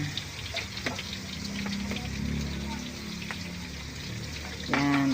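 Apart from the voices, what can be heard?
frying pork chops seasoned with soy sauce in a pan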